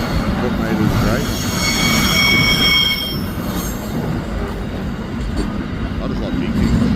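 Four freight locomotives roll past close by through bushland, a loud steady rumble of engines and rolling wagons with high wheel squeals rising over the first half, continuous throughout.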